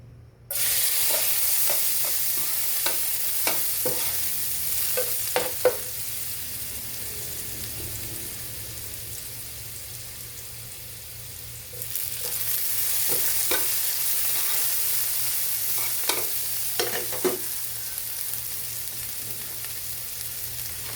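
Water spinach (kangkong) stir-fried in a pan: steady sizzling with repeated scraping and tossing strokes of a spatula, loud and close, briefly quieter midway before the frying resumes.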